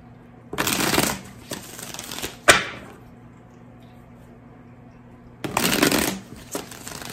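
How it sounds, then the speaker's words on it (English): Two quick riffle shuffles of a tarot deck, each a fast papery flutter about a second long, separated by a sharp tap and quiet room tone. "I put it back in the deck and I tried to shuffle"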